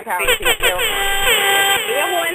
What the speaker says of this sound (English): Air horns to you